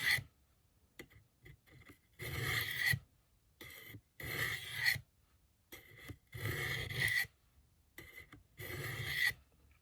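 A knife is drawn across a Work Sharp Ken Onion benchtop sharpener in repeated rasping, gritty strokes, several bursts separated by short pauses, close and fairly loud.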